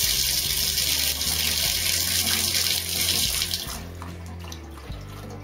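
Tap water pours steadily into a home bathtub, a loud continuous rush that eases and quietens in the last couple of seconds, with no talking over it.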